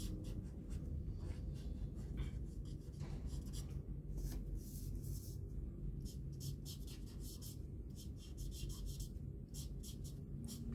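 Markers squeak and scratch on paper while outlining a Super Saiyan Blue Goku drawing, with short rapid strokes that come in bursts, faint over a constant low hum.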